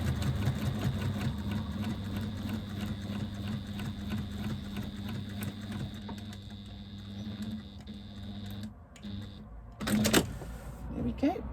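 A sewing machine runs steadily, stitching the base of a fabric press bag with a continuous mechanical whir, then stops and gives a couple of short clunks near the end; a voice talks over part of it.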